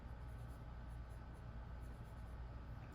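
A pencil drawing small flower petals on paper, faint scratchy strokes in short repeated bursts over a steady low background hum, close with no talk.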